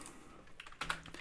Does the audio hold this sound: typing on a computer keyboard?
yes